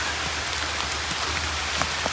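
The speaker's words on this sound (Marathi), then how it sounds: "पाऊस जोरात आला" Heavy monsoon rain in Konkan pours down steadily, a dense, constant hiss of drops drumming on surfaces nearby with a low rumble beneath and no voices.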